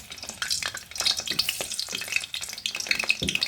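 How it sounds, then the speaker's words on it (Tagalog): Squid rolls sizzle and crackle steadily in hot cooking oil, a busy, close frying hiss with scattered pops throughout, no talk over it. "So magluto na ako ng squid roll."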